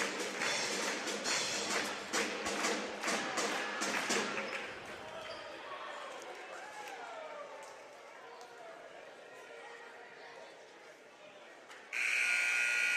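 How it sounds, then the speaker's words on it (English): A scoreboard buzzer sounds at a boys' varsity basketball game in a gym, a loud sustained tone at the very end, following crowd noise, sneaker squeaks and ball bounces with announcer talk. "And so there's the buzzer there."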